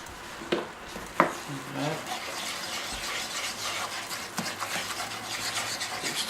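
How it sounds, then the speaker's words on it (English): Chicken porridge with paprika is stirred in a frying pan, a soft continuous scraping and wet shuffling up close, with a few sharper knocks of the utensil against the pan. "Keep stirring it."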